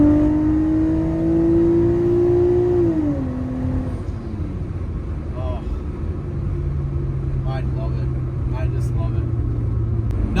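A Nissan Skyline GTS-T's RB engine accelerates close by, its whine climbing steadily before dropping at a gear change, then settling into a steady droning rumble.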